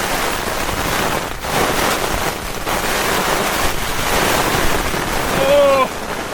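Strong wind roars and buffets around a tent at a campsite during a thunderstorm, with a continuous loud rushing that rises and falls in gusts and a short vocal sound near the end.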